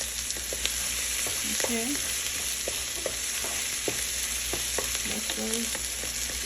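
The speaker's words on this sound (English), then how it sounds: "let the onions cook down" Onions cook down in a pan for chicken and gravy, giving a steady low sizzle with scattered pops and crackles throughout, and a few brief spoken words pass over it.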